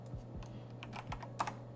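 Someone types on a computer keyboard while playing Factorio, giving a short run of quick, soft key clicks close up with a faint steady hum underneath and no talk.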